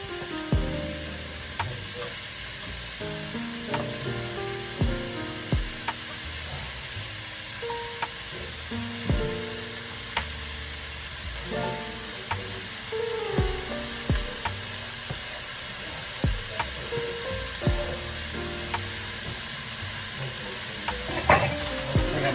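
Chunks of red snapper sizzle steadily in a hot frying pan for a fish stew, with frequent clacking and scraping of a utensil stirring them.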